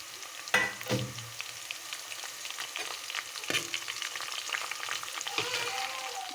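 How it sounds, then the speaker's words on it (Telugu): Thinly sliced onion and two split green chillies fry in a pan, a soft steady sizzle broken by a few sharp clanks of a spoon stirring against the pan, close and moderately quiet, no talking. "సన్నగా కట్ చేసుకున్న ఆనియన్ ఫ్రై అవుతున్నాయి."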